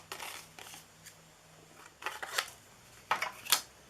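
Scissors snip through paper for a handmade purse project, a few quick crisp cuts close by with short pauses between, in a quiet room.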